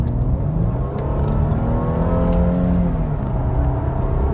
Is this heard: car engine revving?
yes